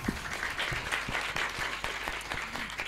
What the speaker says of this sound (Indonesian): Tepuk tangan dulu buat Sunan Kalijaga.